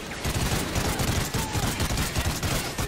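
Machine gun fire rattles continuously in Call of Duty: Ghosts, a loud, dense fusillade of rapid overlapping shots with no pause across the short stretch.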